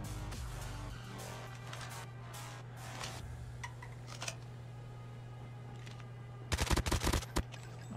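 QQ9 submachine gun firing in Call of Duty Mobile, a rapid burst of automatic shots near the end, preceded by a few scattered isolated shots over steady game background hum, with no talk.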